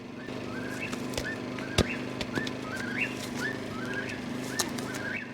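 Repeated rising whooping bird calls of a kookaburra at a campsite come in a rhythmic series over a steady low background hum, with a few sharp clicks and knocks nearby.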